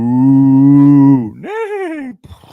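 A human voice imitates a cow's moo: one long, steady, deep moo followed by a shorter rising-and-falling one, loud and close, as part of an animal-noise game.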